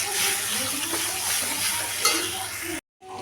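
Vegetables stirred in a frying pan, a continuous close sizzle with scraping strokes and an occasional utensil clink, then a brief cut to silence before the sizzle resumes.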